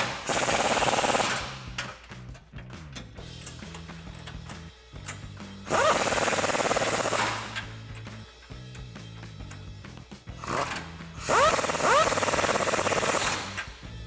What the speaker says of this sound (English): now we're going to go ahead and tighten up the 3 bolts here, here, and here that hold our hitch to our frame rails